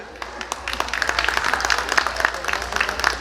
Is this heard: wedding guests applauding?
yes